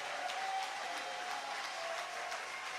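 Steady applause from a congregation during a Sunday church service in Dabou, a dense, even clapping that holds at a moderate distance throughout.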